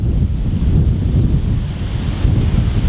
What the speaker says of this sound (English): you get these sudden kind of gusts of wind, even on a relatively calm day